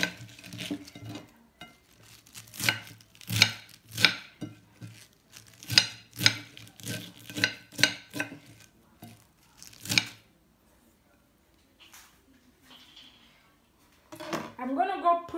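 A knife chops steadily on a board in a quick, uneven rhythm, then stops; a voice speaks briefly at the end.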